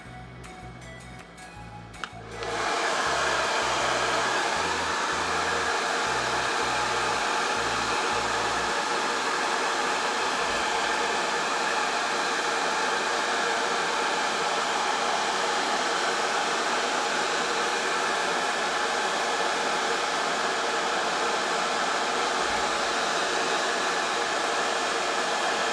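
A handheld hair styler resembling an AIRWRAP blows air in a loud, steady, close-up rush that runs without a break. It starts after a few seconds of clicking and low buzzing.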